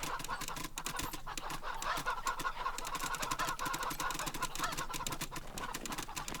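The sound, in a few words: cyborg chickens clucking in the video game Wasteland 3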